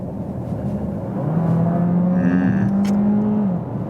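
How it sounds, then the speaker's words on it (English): Peugeot 408 GT hybrid crossover pulling hard at full throttle in sport mode from a rolling 60, a steady engine drone rising in pitch from inside the cabin, moderately loud with a faint whir. "foot flat to the floor"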